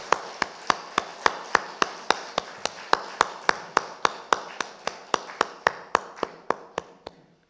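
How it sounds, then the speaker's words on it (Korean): A church congregation at a Palm Sunday service claps in unison, giving about twenty sharp, evenly spaced claps that keep a steady beat and fade slightly toward the end. "하나님께 영광의 박수 올려드립니다."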